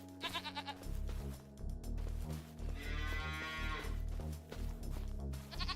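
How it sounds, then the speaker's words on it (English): In Farming Simulator 25, dairy cattle moo in low, drawn-out calls while goats bleat in quick higher bursts, several animals calling close by and overlapping in a shared fenced pasture. "Here I have my goats and my dairy cows in the same fenced-in area."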